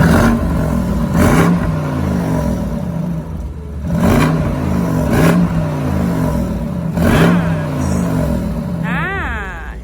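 A BMW M550i with an AC Schnitzer exhaust, set to comfort mode, revs three times in a row. Each rev swells into a loud, close engine roar, then drops back to a rumbling idle.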